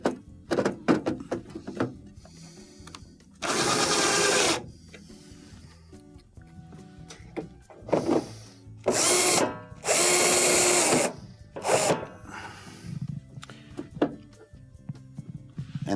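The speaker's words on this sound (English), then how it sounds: "we'll install our 2 number 2 Phillips screws" A power drill drives two number 2 Phillips screws into the control console of a KitchenAid washer, several loud whirring bursts separated by clicks and handling knocks, close up.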